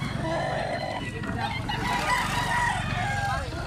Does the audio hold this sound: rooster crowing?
yes